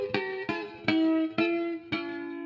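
HY-Delay 4 delay plugin applying a gentle modulated sweep to a plucked synth-like tone: five separate notes, each struck and sustained with a slightly wavering, shimmering pitch and a delay tail, clean and alone with no talking.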